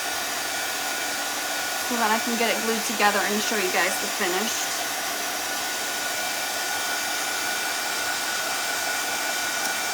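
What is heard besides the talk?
hair dryer drying paint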